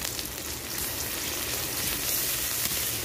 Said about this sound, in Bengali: পেঁয়াজ হালকা করে একটু ভাজি করে নিয়ে এখন দিয়ে দেবো যে রসুন বাটা